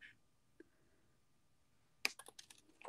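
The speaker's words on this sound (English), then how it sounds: "I'm going to trim that off" Wire cutters snip thin jewelry wire on a beading table, giving a small click early on, then a close burst of sharp snips and clicks near the end.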